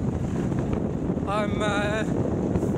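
Steady wind rushes past a moving electric velomobile, a constant close buffeting roar over the microphone with a brief higher tonal whine partway through.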